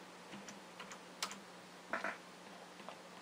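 A computer keyboard is typed on in sparse, faint clicks and short bursts of keystrokes in a quiet room, with no talk.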